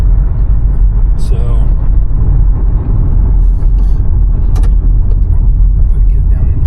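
A car engine rumbles loudly and steadily in first gear while driving downhill on the Pikes Peak road, with faint background clatter and brief higher noises over the drone.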